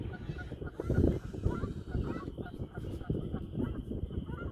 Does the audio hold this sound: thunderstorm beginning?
no